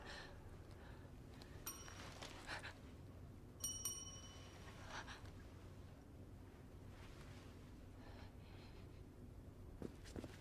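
Small desk bell in a haunted hotel in the video game The Medium, struck in a few sharp ringing dings spaced apart over quiet, low ambient hum, each ring bright and briefly sustained.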